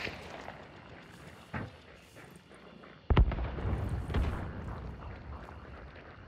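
A single heavy explosion in a first-person shooter game booms suddenly and deep, then a rumbling tail of debris and crackle lingers over quieter game ambience.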